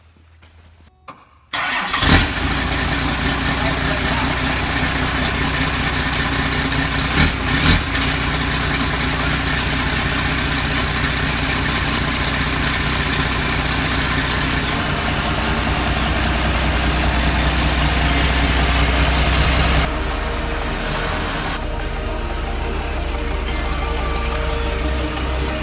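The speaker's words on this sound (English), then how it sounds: "My truck hasn't started in like 3 months, so I'm gonna start it." A truck with only a downpipe fitted cold-starts after months of sitting, catching abruptly with a loud burst, then settles into a raw, rumbling idle that holds steady, briefly rises, and drops slightly near the end; no talking.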